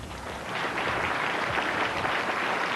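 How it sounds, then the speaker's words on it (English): A steady round of applause from the audience at a spelling bee final fills the hall, dense and continuous clapping throughout without any voices. "Gets a well-deserved round of applause."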